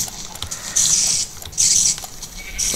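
Combat sounds from the Minecraft video game as a player attacks a spider, with short bursts of scratchy, hissing game noise that repeat three times.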